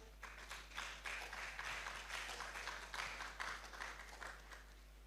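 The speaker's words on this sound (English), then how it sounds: "The applause can be louder." Faint, steady audience applause at a youth leadership debate and conference, rolling claps in gentle waves over a low constant hum, with no talking.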